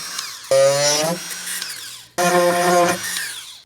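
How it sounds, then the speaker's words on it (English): A Dremel fitted with a small diamond wheel trims the edges off a speaker mount for a Duramax Silverado's Bose speaker replacement, two loud, close, high-pitched grinding whines separated by a short spin-down. "I'm just going to use a Dremel with a little diamond wheel to trim these edges off of here."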